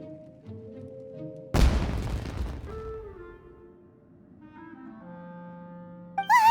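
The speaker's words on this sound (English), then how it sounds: "It sounded like fireworks." A single loud explosive burst in the video game Genshin Impact, a fireworks blast that crackles and decays over about a second amid quiet game music and ambience.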